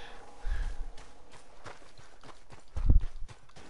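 Horse hooves clip-clop faintly in the Red Dead Redemption video game on PS4, a few soft, uneven hoof thuds with one heavier stomp near the end over quiet game ambience.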